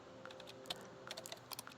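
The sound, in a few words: typing on a computer keyboard in video game SCHiM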